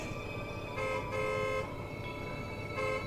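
A car horn honks in several blasts, two longer toots and a shorter one, over a constant rumble of road traffic.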